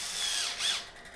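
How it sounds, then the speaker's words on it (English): A drill countersinks a hole in a plastic Husqvarna FC250 fuel pump, two short whirring spins up close, each rising and falling. "we're just going to countersink this a smidge so that the drill and the tap will run concentric to the center of the hole"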